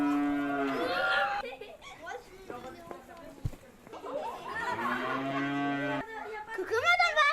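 A cow on a farm gives long, drawn-out moos, two loud calls close by with a pause between them, and voices can be heard around them.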